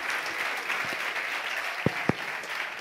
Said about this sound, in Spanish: yo quiero que lo recibamos con un aplauso también